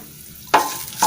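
Mustard seeds and cumin sputtering in hot oil for a Tamil dal curry tempering, a sudden sharp sizzling crackle that holds briefly, then a second short burst at the end, close and loud.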